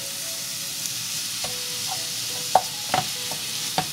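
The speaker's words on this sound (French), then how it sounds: "vous cassez bien, je vous ai dit, avec le côté de la cuillère en bois, pour que ça ne fasse pas de gros grumeaux" Minced meat and onion sizzle and frying in a pan while a wooden spoon stirs and breaks up the mince, with a few sharp scrapes and taps over a steady, fairly soft hiss.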